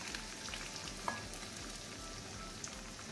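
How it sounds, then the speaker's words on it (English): Eggs fry in a pan for a Chinese omelette with a soft, steady sizzle and a few faint clicks, fairly quiet with no talk. "Add the eggs"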